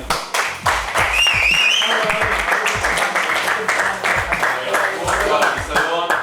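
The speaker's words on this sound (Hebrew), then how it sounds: "אפשר כפיים לעצמכם." A crowd claps in steady applause at a high school graduation film screening, dense and lively throughout, with cheering and voices mixed in.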